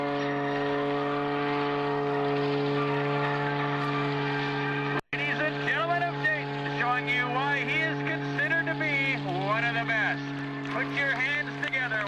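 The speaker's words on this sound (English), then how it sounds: "bring this aircraft around and slow it down to a ground speed of less than 20 miles an hour" An Oracle Challenger aerobatic propeller airplane flying slowly at an airshow makes a steady, droning propeller hum throughout, while a public-address announcer talks over it.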